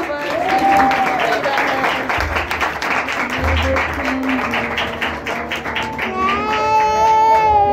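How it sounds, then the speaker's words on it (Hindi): Applause at a church Christmas programme, clapping hands mixed with voices and a singing or sustained tone toward the end, busy and fairly loud throughout. "जोरदार तालियां"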